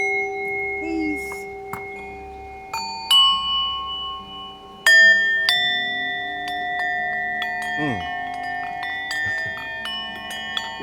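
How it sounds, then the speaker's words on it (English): Small chimes ring out in a sound healing workshop, several bright, sustained tones struck at intervals and left to decay, with soft voices and faint rustling in the background. "Little chime."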